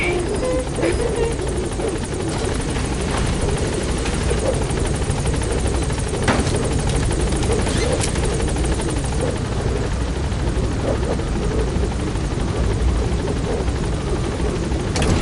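Helicopter in the video game Metal Gear Solid V: The Phantom Pain, a steady, loud rotor drone that holds throughout while the aircraft climbs, with occasional radio-style voices over it.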